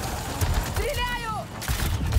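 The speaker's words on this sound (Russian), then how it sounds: "Стреляю!" Gunfire in the video game Marvel's Spider-Man 2, loud bursts of shots around 0.5 s and 1.7–2.2 s over a busy game mix with whistling, swooping effects in the middle.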